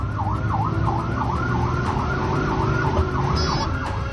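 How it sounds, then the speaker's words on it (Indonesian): Fire engine siren wailing in a steady, rapid up-and-down sweep while the truck heads to a fire behind a car that will not yield, loud and close over constant road and engine rumble. "Meski telah menyalakan sirene, pengemudi mobil di depan ini tak menggubrisnya."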